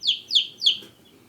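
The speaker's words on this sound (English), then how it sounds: "and listen to her peeping." A young hen, smaller than others of her age and hatched from incubated eggs, gives three clear, high, falling peeps in quick even succession, then a fainter fourth, close by in quiet surroundings.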